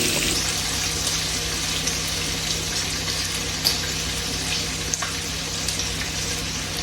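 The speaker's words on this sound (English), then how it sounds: "They're getting them a sizzle up, sizzle up, sizzle up" Steady, close sizzling and crackling of Cajun sausages frying in a pan, a continuous hiss with occasional small pops and no talking.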